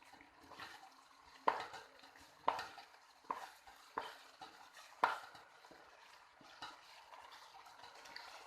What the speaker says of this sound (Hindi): चम्मच में सलसल हिलाते रहें